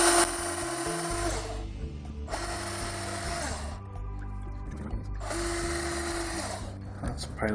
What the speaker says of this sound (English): I just need to drill through this pilot hole into the other one,